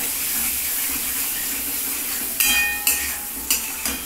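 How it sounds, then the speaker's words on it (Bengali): Potatoes and spices fry together in hot oil for a milk and egg curry, a steady, fairly loud sizzle with a few sharper crackles and stirring scrapes near the end. "আলুটাকেও একটু ভালো করে এই তেলের মধ্যে আমি মশলা আলু একসাথে ভেজে নিই"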